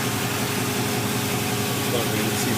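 A Chevy 350 V8 fitted in a Pajero idling through twin 63mm exhaust pipes running from headers into a free-flow muffler, a steady, close, low-pitched burble with an even pulsing texture throughout.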